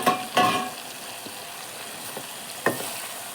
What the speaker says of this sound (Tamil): இந்த சமயத்தில் நம்ம க்ளீன் பண்ணி வச்சுருக்க காளான் சேர்த்துக்கலாம்